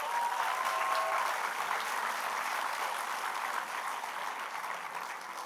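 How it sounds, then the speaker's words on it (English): Sustained applause from a crowd at a school graduation ceremony, dense and steady clapping that fades slightly toward the end. "Can you guys give them a round of applause?"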